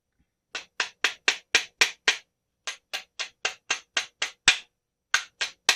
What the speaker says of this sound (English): I'm using a polished hammer, that's why it's not leaving any marks.